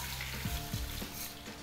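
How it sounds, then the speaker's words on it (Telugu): Chana dal frying in a little oil in a pan on a stove, a steady close sizzle with low watery bubbling and a few soft knocks underneath. "ఇది కొద్దిగా దోరగా వేగాలండి."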